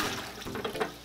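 Running water splashes and swirls as a bucket is rinsed over a concrete floor, a soft continuous wash with a few louder sloshes toward the end.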